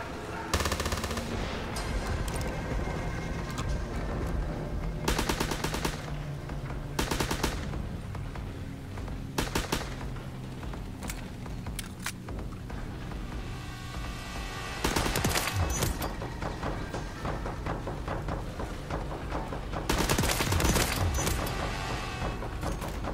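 Rapid automatic gunfire from a World War II D-Day zombies survival map in a shooter game, loud sustained bursts and rattling volleys with short lulls, continuing throughout without talk.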